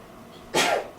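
A single sharp sneeze from someone in a room, one short loud burst lasting about half a second, with no talking around it.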